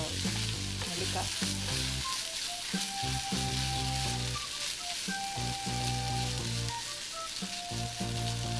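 Gooseberry thokku, a ground amla relish, sizzles and spits in a pan on the stove with a continuous, fairly loud frying crackle. Occasional stirring is heard and there is no talk, though a faint tonal layer runs underneath.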